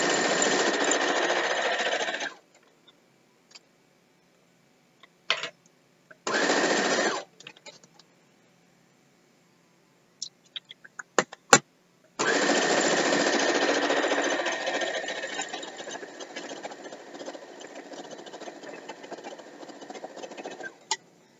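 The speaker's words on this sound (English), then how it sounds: "Now, whenever I'm sewing, I'm not pushing it into the machine" Sewing machine stitching the seams of a Game Cube quilt, with close, loud mechanical whirring in bursts separated by quiet gaps and small clicks, then a long, steady run of stitching.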